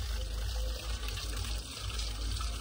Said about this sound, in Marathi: मोटर चालू आहे, पाणी गळतंय तिथनं